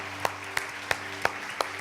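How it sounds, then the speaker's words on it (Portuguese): Congregation in a Portuguese-language church service claps in a steady rhythm, five sharp, evenly spaced claps over a low sustained hum of music or room tone. "Dá um aplauso ao Senhor, porque Ele é digno."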